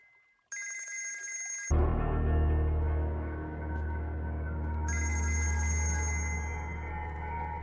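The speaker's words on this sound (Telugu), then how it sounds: "రషీద్ బై ఫోన్ ట్రై చేస్తున్నాడు." A telephone rings in a film scene, its electronic bell tone sounding in two bursts, first alone and then over a heavy low rumble of dramatic score.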